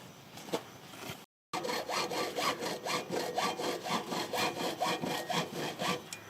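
A hand saw cuts through wood in steady, rhythmic back-and-forth strokes, close and clear, with a brief pause near the start.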